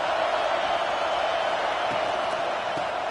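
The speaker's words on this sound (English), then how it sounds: "Listen to the crowd energy here in the early going." A football stadium crowd roars in a constant, dense wash of cheering. It is loud and distant, with no individual voices standing out over its full length.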